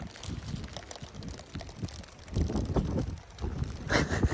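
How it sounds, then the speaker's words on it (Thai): Wind and rain at the Lam Pao reservoir, steady rushing gusts buffeting the microphone with a constant wash of noise and irregular louder surges throughout, no voices. "ฝนตก ลมก็แรง"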